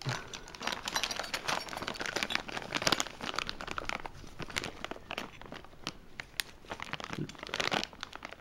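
Engine kit parts for a bicycle gasoline motor being unpacked from plastic bags: steady close crinkling and crumpling of plastic with sharp rustles and small tearing bursts throughout, no talking.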